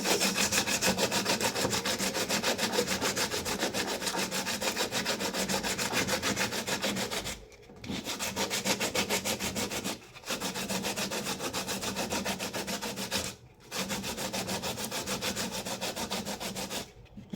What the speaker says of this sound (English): Now we can just sand it to smoothen the surface.